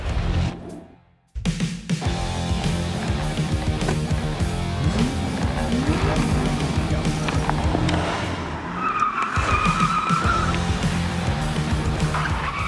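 A car on Michelin Pilot Sport 4S tyres skids through a long, loud stretch of tire squeal and slides, engine roaring steadily underneath, with a brief lull near the start and no talking.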